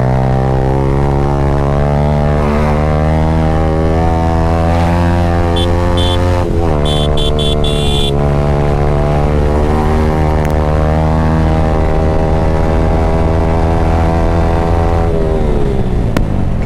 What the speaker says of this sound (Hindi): एक्रा का एग्जॉस्ट लग रहा है और भाई के R15 V4